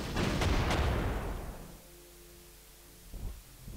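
Heavy artillery booms from coastal guns in the wartime strategy game Panzer Corps, a loud sustained blast and rumble at the start that decays, followed by a softer second thump near the end.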